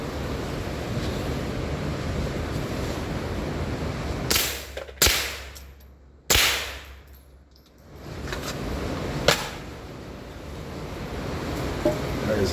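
A suppressed Tippmann M4-22 .22 rifle fires several sharp, snappy shots over steady wind and outdoor noise. Two come close together, then a pause, then fainter single shots follow.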